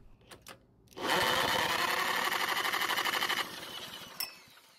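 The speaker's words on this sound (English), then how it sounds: "try using a drill to spin the engine over instead." A cordless drill spins over a Honda pressure washer engine through a socket adapter on the flywheel bolt, recoil assembly removed, making a loud, steady whirring, chugging run of about two and a half seconds that then stops.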